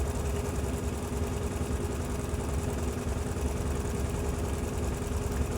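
Steady continuous whirring hum of a sewing machine stitching a quarter-inch seam on a table runner, close and moderately loud with no pauses or talk.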